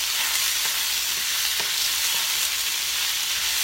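Shrimp stir-frying in a pan, a dense, steady hiss of sizzling oil close up that stays loud and even, with faint scrapes as the pieces are stirred.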